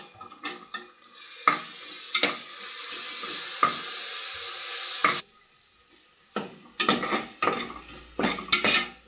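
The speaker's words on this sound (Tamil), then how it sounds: "இஞ்சி பூண்டு பேஸ்ட்டு அதை போட்டு நல்லா வதக்கிக்கணும்" Ginger garlic paste sizzles and fries in a hot pan while a spoon stirs and scrapes intermittently, the hiss swelling steadily then fading into clinks and scrapes.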